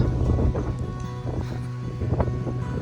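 Strong gusting wind buffets a handheld phone microphone at a hill-station viewpoint in Matheran, a continuous low rumbling roar with uneven gusts throughout.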